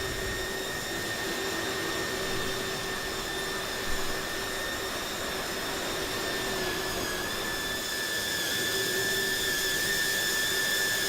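Airbus A300 jet engines idling in Microsoft Flight Simulator 2020, a steady loud whine with layered high tones over a broad roar, unchanging throughout.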